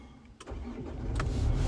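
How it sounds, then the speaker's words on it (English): The 2.3 dCi diesel engine of a 2016 Nissan Navara cranks briefly and catches, settling into a rising, rumbling idle. "I'll start the engine up actually, I can show you that light up."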